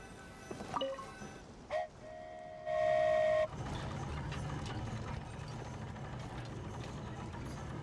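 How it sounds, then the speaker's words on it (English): A short train horn toots in Genshin Impact, followed by a sustained whistle-like tone, then a steady rumbling of a moving flying train. "It's a train."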